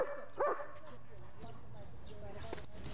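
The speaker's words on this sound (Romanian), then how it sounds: "învățăm câinele să și tacă la comandă, nu numai să latră la comandă" During bark-on-command training, a dog gives a short bark near the start and then faint yips and whimpers, while a trainer talks over the quiet room.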